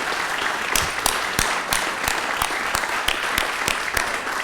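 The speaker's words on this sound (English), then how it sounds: "Please give a robust round of applause for those who choose to be in the arena." Applause from the audience at an event for Yamhill County Commission candidates at Linfield. Close, sparse claps fall in a fairly regular rhythm over a steady bed of clapping from the wider crowd.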